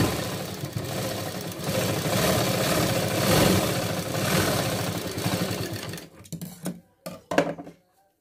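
A sewing machine runs a steady double line of stitching on a blouse for about six seconds, then stops, leaving short bursts of fabric handling and clicks.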